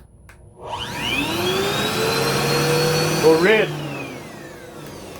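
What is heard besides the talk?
vacuum cleaner running on EGO Nexus Escape power station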